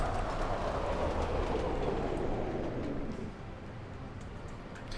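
A metro train in the Cities in Motion 2 game runs along the track, a steady rolling rumble with faint clatter that eases and fades after a few seconds, with no talk.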